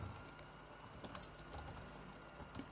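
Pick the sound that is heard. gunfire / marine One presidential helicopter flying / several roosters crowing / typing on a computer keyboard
typing on a computer keyboard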